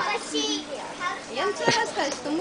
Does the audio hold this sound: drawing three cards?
no